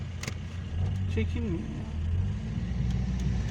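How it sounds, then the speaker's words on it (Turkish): Cars pass along a city street, a steady engine rumble and swell of traffic running throughout, with someone speaking briefly over it. "Arabalar geliyor ya önüne hemen."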